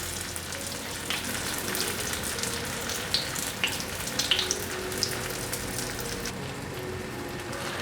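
Food pan-frying slowly on its second side until golden, giving a steady, soft, continuous sizzle and crackle throughout with small pops and no voices.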